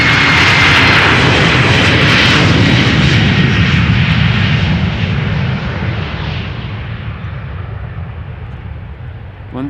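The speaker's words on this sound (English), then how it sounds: "Embraer 190 outbound to Newcastle." An Embraer 190 jet departs Amsterdam Schiphol bound for Newcastle. Its loud, broad engine roar is strongest at first, then gradually fades as the aircraft climbs away.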